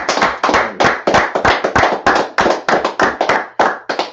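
Rhythmic hand clapping during a Sabbath service, a dozen or so sharp, evenly spaced claps, close and loud with no talk over them.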